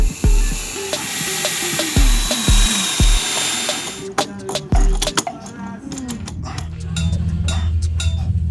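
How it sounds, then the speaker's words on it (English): A power drill drilling into a boat deck whines in repeated bursts, its pitch rising and dipping, then gives way to clicks, rattles and handling noise. "drilling into the deck always feels wrong."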